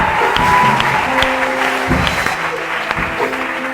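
Congregation at a church service applauding in acclamation of Jesus Christ: sustained, dense clapping that stays loud throughout, with a voice or two mixed in beneath.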